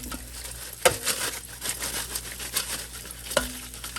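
Zucchini deep-frying in oil, browned and floating, gives a steady close sizzle and bubbling with a couple of sharp clinks from a utensil, and no talk.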